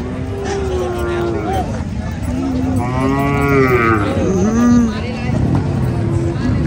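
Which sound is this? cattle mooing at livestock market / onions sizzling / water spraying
cattle mooing at livestock market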